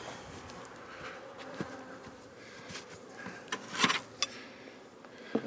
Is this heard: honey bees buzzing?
yes